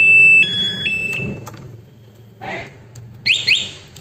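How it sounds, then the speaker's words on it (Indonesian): Short electronic alarm tones chirp and warble from a remote alarm siren on a Honda Beat scooter with the engine off, with a steady pitched beep at the start and quick rising whoops near the end. "Sirene nyala, mesin mati."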